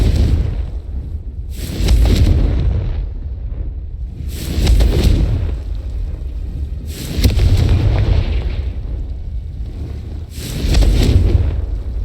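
Confringo fire spells in Hogwarts Legacy burst as four deep booming explosions spaced a few seconds apart, each a loud rumbling blast with a crackling tail.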